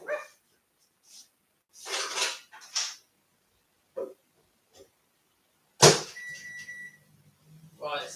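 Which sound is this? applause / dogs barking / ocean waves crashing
dogs barking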